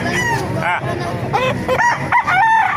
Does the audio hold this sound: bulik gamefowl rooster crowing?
yes